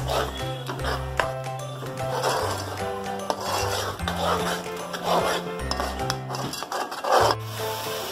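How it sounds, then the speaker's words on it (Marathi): Masala paste for chole is stirred and sautéed in oil in a metal pan, a spoon scraping and rubbing steadily against the pan over a low continuous sizzle, with music playing underneath throughout. "पुन्हा हे व्यवस्थित परतवायचं आहे तेल सुटेपर्यंत"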